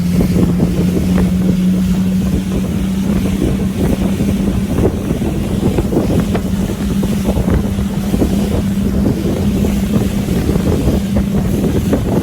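A 2021 Sun Tracker Bass Buggy 16X running on the water with a new propeller, a steady droning engine under heavy wind buffeting, loud and constant throughout with a slowly rising pitch.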